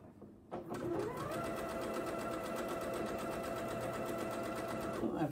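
A Janome sewing machine runs steadily while stitching charm pack quilt borders, a close, even mechanical whir that starts abruptly and stops after about five seconds.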